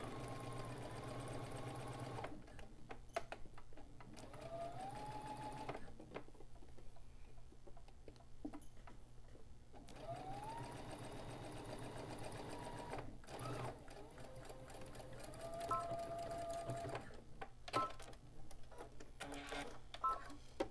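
A sewing machine stitches a half-inch fabric seam for a turban and top knot, starting with a backstitch, running in a steady, quiet whir over a dense, busy background.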